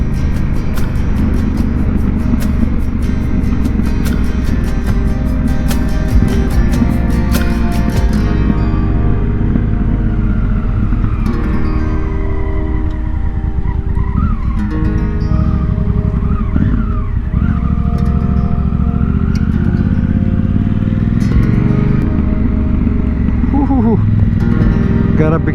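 Motorcycle ridden on fine gravel on an adventure bike fitted with Motoz Tractionator tires, a steady loud engine drone with wind and tire crunch throughout. A rider talks over the continuous noise.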